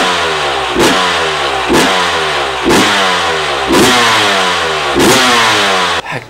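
KTM 300 enduro two-stroke motorcycle fitted with a Coober ECU, revved in five sharp throttle blips about a second apart, each rising and falling crisply over a steady idle, loud and close with no talk.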